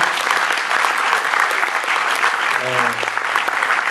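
A cinema audience claps steadily and loudly throughout at a film premiere, dense applause filling the room, with a brief low tone sliding in near the end.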